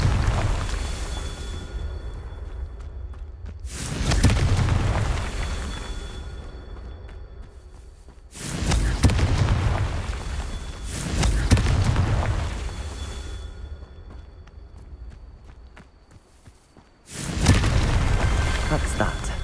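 Confringo fire-spell blasts in Hogwarts Legacy land as four heavy booming explosions, each with a deep rumbling tail fading into quieter gaps, with some talk.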